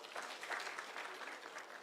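A brief, fairly faint round of applause rises from the audience at a public security forum in Migori County, Kenya. Scattered hand claps blend into a soft, steady patter that lasts under two seconds.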